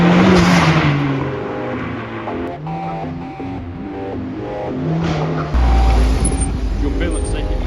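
A Honda Civic FK8 time attack track car with a rebuilt gearbox, plated limited-slip differential and paddle clutch drives steadily, its engine droning and shifting close up, with a brief voice over the motor.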